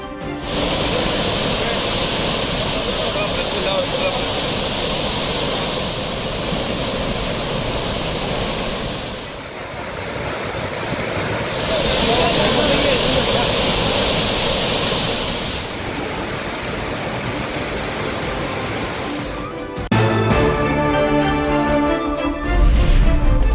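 Courtallam waterfalls running in flood, a dense, steady roar of pouring water that stays loud throughout, with a change to a different busier sound near the end.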